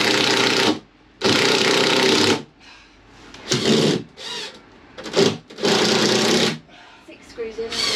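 A power driver sinks screws into a Mercedes Vario camper van during a conversion, with several loud bursts of whirring, each a second or so long, separated by pauses where people talk.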